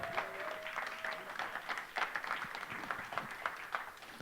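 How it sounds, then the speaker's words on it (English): An audience at the BIF2019 conference applauds the AV crew, faint and somewhat distant, with a dense steady patter of many hands and a few sharper individual claps. "Can we give them a huge round of applause?"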